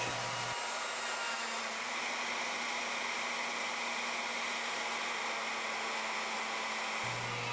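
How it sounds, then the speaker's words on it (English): A Legacy 1800A woodworking machine mills a rope design with a constant loud motor whine and cutting hiss, running steadily and unchanged throughout. "To mill a rope design, you simply change the bit and set the desired pitch."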